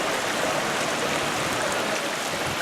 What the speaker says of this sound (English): there you can see the stream kind of flowing towards the pool